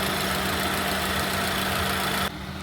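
A 2006 Honda City ZX automatic sedan's engine idles with a steady, smooth, fairly loud hum and a faint even vibration, dropping away abruptly near the end, with no talk.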